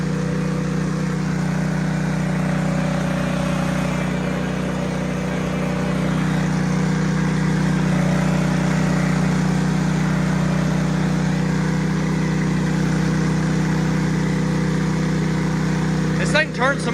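A small engine runs hard after its throttle linkage was adjusted, giving a loud, steady, close droning hum that holds nearly constant throughout with only slight swells in pitch and level.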